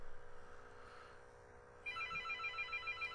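A telephone rings in a quiet room, its steady electronic trill cutting in partway through and pulsing evenly at moderate volume over a low background hum.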